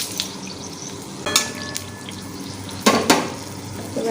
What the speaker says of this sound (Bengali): এবার এর মধ্যে একটু চিনি দিয়ে দিলাম।